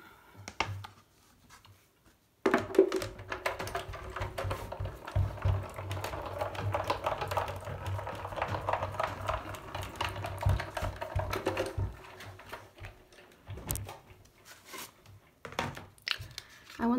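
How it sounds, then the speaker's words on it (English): A Tonic Tangerine die cutting machine rolls a metal die and card through its plates, a sustained grinding, clicking mechanical run that starts abruptly and continues for many seconds, with irregular clicks near the end. "I'm just going to die cut that quickly. So just pop this into my tangerine."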